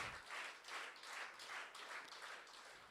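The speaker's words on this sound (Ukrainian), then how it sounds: "Я так зрозуміла, що це оплески для мого сина Артемія." Faint audience applause at a charity auction evening, with soft, distant clapping rising and falling in gentle rhythmic swells.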